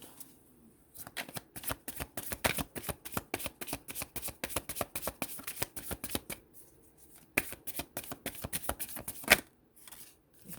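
A Divine Feminine oracle deck is shuffled by hand, close rapid riffling and flicking of cards in two long bursts separated by a brief pause, with a faint voice at the very start.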